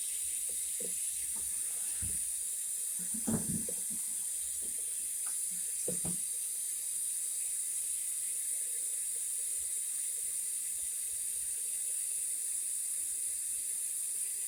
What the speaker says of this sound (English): I'm going to add some lukewarm water to this as well.